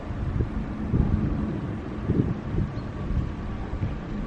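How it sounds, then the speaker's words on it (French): Wind rising outdoors near a house, blustery gusts buffeting the microphone in uneven low rumbles, fairly close and steady with no talking. "il y a le vent qui se lève"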